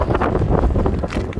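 Loud, continuous wind buffeting the microphone outdoors beside a 2014 Chevrolet Caprice police car, a steady low rumble with gusty swells throughout and no speech.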